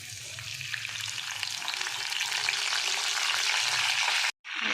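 A handful of curry leaves sizzles and crackles in hot oil with fennel seeds for a crab gravy, a steady close frying hiss that cuts off abruptly near the end, with no voices.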